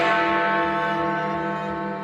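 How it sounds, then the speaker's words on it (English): Big Ben, the hour bell in the Westminster clock tower, rings out on its own with a single sustained, resonant tone slowly decaying, loud and close. "but this time we're only ringing 1 bell. It must be timed precisely so that the first strike happens exactly on the hour."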